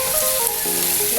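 Eggs sizzle loudly in a hot pan, a constant close frying crackle with a faint ringing tone underneath and no talking.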